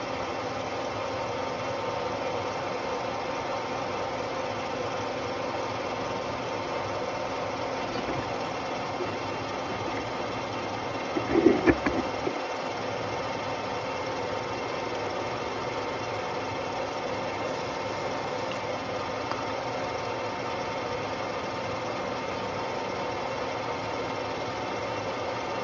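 A lathe turns an electric motor commutator with a faint, steady mechanical hum, one brief clunk near the middle and no talking.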